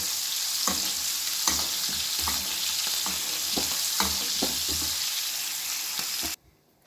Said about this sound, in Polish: na tym maśle usmażymy sobie jeszcze cebulkę, która nabierze też fajnego smaku